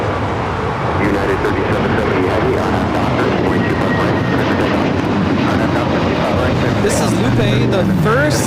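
Frontier Airlines Airbus A321neo departing LAX on runway 25 right, a loud broad jet roar sustained throughout with a rising whine near the end, while people talk over it.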